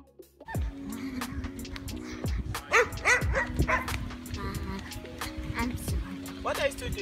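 A dog barks and yips repeatedly in an outdoor Zambian neighbourhood, sharp bursts scattered throughout with voices talking alongside.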